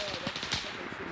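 Machine gun fire in a combat video game, a rapid burst of repeated shots at mid distance with a dense, rattling rhythm throughout.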